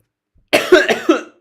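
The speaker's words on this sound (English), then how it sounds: "Oh man, this cough." A person coughs in a rapid burst of four harsh, close coughs, then a fifth after a brief pause, loud and dry against an otherwise silent room.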